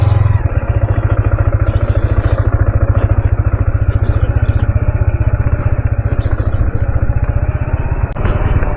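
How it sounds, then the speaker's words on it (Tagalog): A motorcycle engine runs loud and close on a steep dirt trail up Mt. Kulis in Tanay, Rizal, with a steady, chugging throb that stays constant throughout. "So yun yung motor natin. And we'll get ready."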